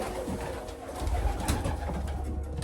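Racing pigeons coo softly and repeatedly nearby in a loft, a low murmuring layer running throughout with light rustling.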